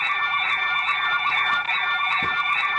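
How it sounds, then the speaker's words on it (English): A Commax nurse call system sounds its emergency alarm, a steady electronic tone that repeats in even pulses, loud and unbroken with no talking. "the system automatically blocks the call function and keeps the alarm sound on until a nurse attends the patient"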